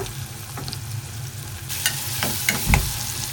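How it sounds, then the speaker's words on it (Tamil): Onions sizzle in hot oil in a tempering of mustard seeds, urad dal, cumin and curry leaves, with a steady crackle broken by a few sharp spoon scrapes and stirring clatters near the end. "நல்லா ப்ரௌன் ஆகிற வரைக்கும் ஃப்ரை பண்ணிவிட்டு"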